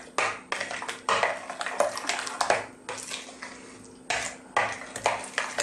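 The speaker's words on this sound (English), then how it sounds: "Simply let's give this a mix." Tandoori chicken pieces are mixed by hand with spices and orange colouring in a bowl, giving wet squelching and clinking in irregular bursts, close and fairly loud with short pauses.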